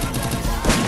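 Shotgun fire in the mobile battle-royale game Free Fire comes as a short, loud, dense burst of blasts lasting under a second.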